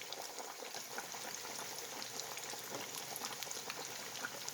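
Two pieces of coated chicken deep-frying in olive oil at about 320 degrees give a dense, steady, close sizzle and crackle that runs without a break, with no voices.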